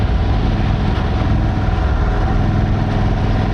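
A steady, low engine drone from an Indian Chief Dark Horse motorcycle on its stock exhaust during a test ride, running smooth and fairly quiet without gear changes or revving bursts.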